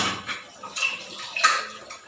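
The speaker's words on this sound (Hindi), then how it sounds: "और बर्तन रहते हुए ये बर्तन साफ करने लग दी थी।" Dishes and utensils clinking and clattering in a sink, with scattered light knocks and scrapes at close range, no voices.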